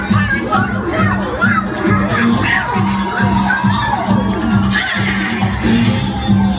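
An audience, children among them, cheers and shouts for Mickey's pirate crew at a Pirate Night show aboard a Disney cruise ship. The loud, jubilant roar carries whoops and a steady musical drone beneath.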